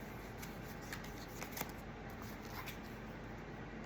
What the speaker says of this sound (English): Get these in the right order here so I can at least shuffle them.